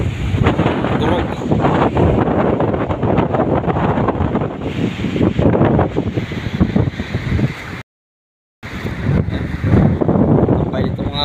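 Strong typhoon wind roars across a coastal village where boats are moored, buffeting the microphone in dense, continuous gusts. The roar cuts out briefly once, then returns at full force.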